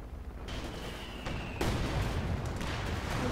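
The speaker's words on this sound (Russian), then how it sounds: "И пошла от Айрфилда артиллерия." Artillery fires from an airfield in a video game, with a sharp, loud burst crashing in partway through, another following about a second later, over a constant rumbling battle background.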